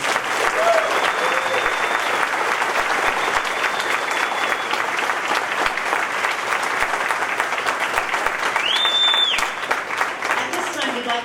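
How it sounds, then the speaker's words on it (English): Sustained applause from an audience at a college sendoff event for students, dense and steady for about eleven seconds with faint whistles and cheers mixed in. "Let's give these students a round of applause."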